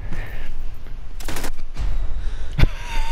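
Bursts of video game gunfire, a few sharp rapid volleys spaced across a few seconds over a dense background of game noise, with no talk.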